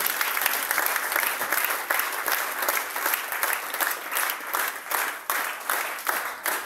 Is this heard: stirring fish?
no